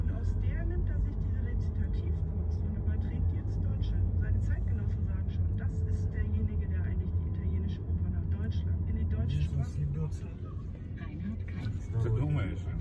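Steady low engine drone and road rumble inside a moving car, continuous throughout with a brief dip near the end, while people talk over it.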